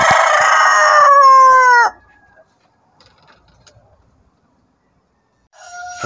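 A Rhode Island Red rooster crows once, loud and close, with a long harmonic call that cuts off sharply, then quiet, and a second crow begins at the very end.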